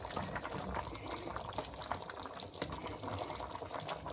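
Saba bananas frying in a pan, a faint, steady bubbling sizzle with small crackles and pops, close but quiet, continuing without talk.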